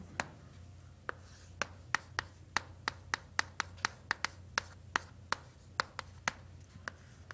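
Chalk tapping and scraping on a board as math equations are written, a steady run of sharp, close clicks about every quarter second with no talk.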